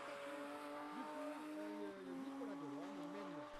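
A Ford Mustang drift car at the French Drift Championship at Chamrousse, its engine revving and wavering in pitch as it slides, heard at a distance under the commentary.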